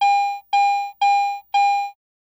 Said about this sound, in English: When operating in standard mode, non-ferrous items with medium to high conductivity produce a bell tone.